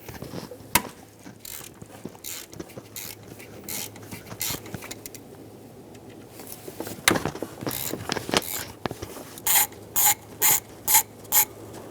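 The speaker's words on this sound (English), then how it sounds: "Using a T27 bit, remove the 3 bolts." A ratchet driver with a T27 bit loosens three bolts on a 2014–2018 Chevrolet Silverado, giving scattered clicks and clanks followed by a quick run of sharp ratcheting clicks near the end.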